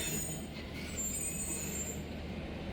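Zakariya Express passenger train running between Rohri and Multan, a steady loud rumble of wheels on track with faint high squeal, continuous throughout with no talking.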